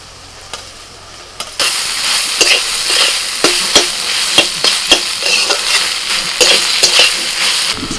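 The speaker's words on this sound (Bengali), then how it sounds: "এবার আমি গ্রেট করা পনিরটা দিয়ে দিচ্ছি।" Grated paneer stirred in a pan with cumin powder and red chili powder, a steady frying sizzle broken by repeated scraping strokes of a spatula at an even rhythm, close and fairly loud.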